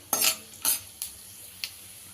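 Tempering seeds dropped into hot oil in a pan, giving a few separate sharp crackling bursts spaced apart over a quiet background.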